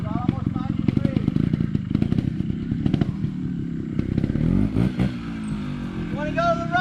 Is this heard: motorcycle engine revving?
yes